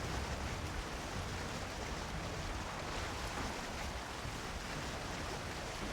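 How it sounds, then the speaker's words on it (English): Rain in a Viking-themed video game, a faint steady wash of broadband hiss with no clear speech over it. "rain coming, huh?"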